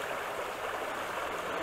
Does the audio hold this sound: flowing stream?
yes